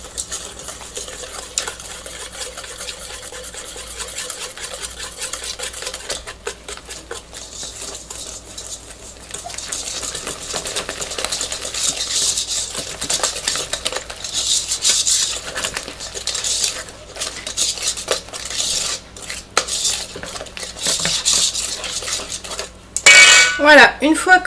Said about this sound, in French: j'utilise juste un fouet, c'est juste tout mélanger ensemble